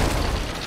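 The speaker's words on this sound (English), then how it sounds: "I got hit fucking point blank by a cannonball!" A cannonball hits point blank in the Ocean of Greed pirate video game, a loud, dense booming explosion that fills the whole brief moment with rumbling low-end blast.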